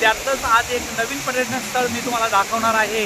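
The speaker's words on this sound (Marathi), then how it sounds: "धबधब्याचा प्रचंड मोठा आवाज तुम्हाला नक्कीच ऐकू येत असेल" The steady broadband roar of Bhavali waterfall near the Bhavali dam at Igatpuri fills the background, continuous and fairly loud beneath someone talking throughout.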